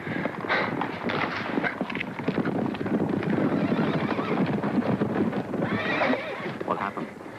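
A horse neighs loudly over the steady clatter of hooves, with another whinny near the end, close and busy throughout.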